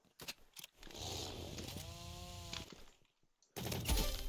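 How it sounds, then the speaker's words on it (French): A chainsaw weapon in the Roblox Rivals shooter game, a buzzing motor whine that revs up and holds for a couple of seconds, then cuts out before a loud burst of game noise. "la tronçonneuse, ah, c'est tellement puissant"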